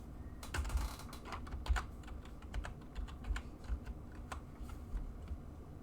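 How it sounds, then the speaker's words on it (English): Steady typing on a computer keyboard, a brisk run of light clicking keystrokes with a few louder taps, close by over a low room hum, no talking. "Maybe I'll type that in here and fix that."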